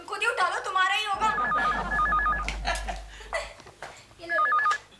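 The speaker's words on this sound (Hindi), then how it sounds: "कब से फोन बज रहा है, कोई उठाता क्यों नहीं?" An old-style telephone rings in a home in repeated trilling bursts, ringing a few times between stretches of a low hum and other noise, with background chatter around it.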